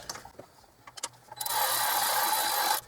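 Fuel rail bolts on a 2007 GMC Yukon Denali being snugged, a few light metallic clicks followed by a steady whirring run of a power driver lasting over a second, close and clear.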